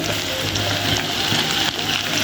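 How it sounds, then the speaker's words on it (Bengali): Vegetables with chopped chili, tomato, coriander and mint leaves sauté in a pan for a raw-potato snack, giving off a steady, close crackling sizzle with no breaks. "দিয়ে আবার ভালো করে কষিয়ে নিচ্ছি"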